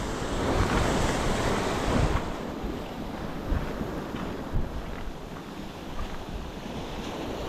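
Wind buffets the microphone over steady surf breaking on a shoreline during shore casting at San Vicente, a continuous close roar with gusty swells and no talk.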